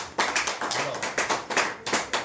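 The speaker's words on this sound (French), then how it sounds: "Nous pouvons applaudir d'abord." A small audience claps in slow, rhythmic unison, each beat distinct and fairly close, with no voices over it.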